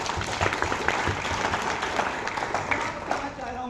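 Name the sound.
audience applause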